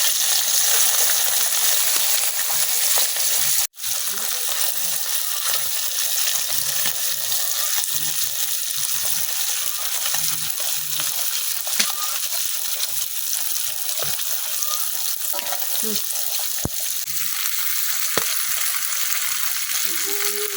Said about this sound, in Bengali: তেলটা কিন্তু গরম হয়ে গেছে, এখন আমি হলুদ লবণ মিশানো মাছটি দিয়ে দিলাম।